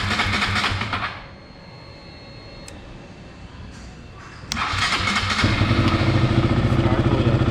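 A KTM motorcycle with a high coolant temperature fault cranks and starts. Its engine idles, then catches and runs steadily with a throbbing rumble, close up and without talk.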